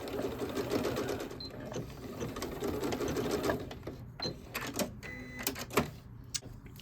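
A sewing machine stitches the layers of a fabric tea wallet together in a dense, steady run. It stops and starts near the end with a few short bursts, and nobody talks.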